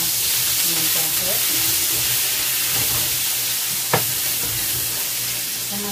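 Tofu fries in a pan together with onion and ginger, a loud, continuous close sizzle and hiss with a brief stirring clink partway through and faint voices underneath.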